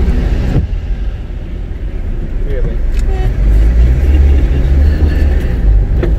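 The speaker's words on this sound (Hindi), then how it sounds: "हम हैं इस वक्त सक्खर मोटरवे टोल प्लाजा पर, और एक गाड़ी के बाद हमारी बारी है" A car idles and creeps forward in a queue at the Sukkur motorway toll plaza, a steady low engine rumble inside the cabin while someone talks over it.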